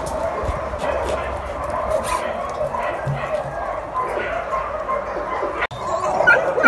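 Several shaggy shelter dogs yip, bark and whimper in a steady, busy chorus, with people talking over them throughout.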